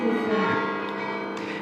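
Continuous church bell ringing fills the background, a sustained rich tone of overlapping strikes, fairly loud and unbroken.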